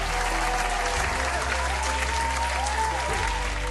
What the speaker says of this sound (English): As the applause roared through the room